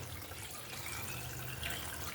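Water pours steadily into a pan of pancit bihon and canton noodles with vegetables, a soft continuous liquid rush that stays close and even, with no talking.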